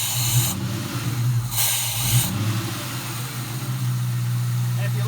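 A Ford Mustang GT V8 idles steadily with its idle air bypass hose pulled off, a constant low rumble with some hiss over it and a couple of brief louder bursts.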